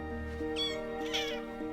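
Young kittens meow in two high, thin cries over a low steady background hum, fairly close and moderately loud.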